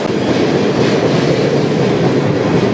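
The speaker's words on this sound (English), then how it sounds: "this is the High Line coming in here from further north, going to Whitefish" A High Line train passes close by on the tracks at Sandpoint, a steady loud roar of rolling wagons with faint clickety-clack of wheels over rail joints, continuous from start to end.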